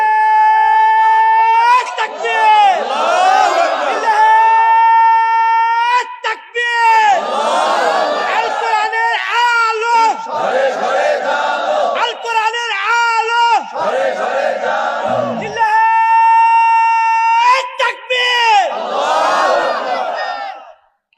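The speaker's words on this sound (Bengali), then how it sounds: "এই তাকবীর দাও তো একটু জোরে শুন" A large crowd at a night-time Islamic mahfil gathering shouts takbir in loud, chanted bursts, several rounds of massed voices rising and falling with short pauses between them.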